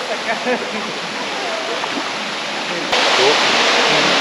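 Constant roaring rush of a waterfall close by, loud and steady, growing louder midway; faint voices are barely audible beneath it, in Bolivia.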